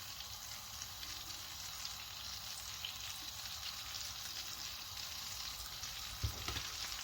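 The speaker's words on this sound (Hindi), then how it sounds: "मक्खन को हम एक पैन में अच्छी तरह से गर्म कर लेंगे।" Butter heats in a pan with a faint, even sizzle and soft crackle that holds steady throughout, ending with a small clatter near the end.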